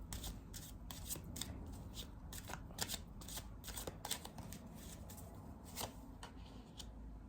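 Tarot cards shuffled for a reading: a quiet, close run of rapid riffling flicks and soft taps over a low background hum.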